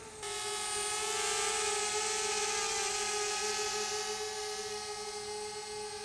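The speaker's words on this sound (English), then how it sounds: "I would not be this brave to fly any drone this close to my face." A DJI Spark drone with propeller guards hovers right up near the face, giving a steady, loud, high-pitched propeller whine that holds evenly for several seconds with no talking.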